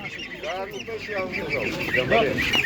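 Ducks and geese quack and honk in a busy animal market, several overlapping calls close by and continuous, with people talking over them throughout.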